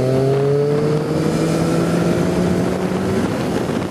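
A Triumph Street Triple RX motorcycle engine holds a steady, loud mid-revs drone with layered harmonic tones, gradually easing off near the end amid rushing wind noise, no talking.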